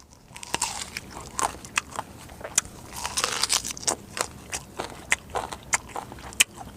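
Someone bites into and chews a large fruit up close, with a string of sharp, crunchy bites and wet chewing at an irregular pace.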